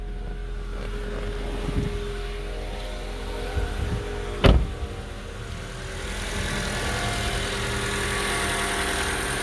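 Honda VTEC car engine idling smoothly and quietly after a fresh oil change, a low steady hum with one sharp click midway and a faint soft thump or two, no talk.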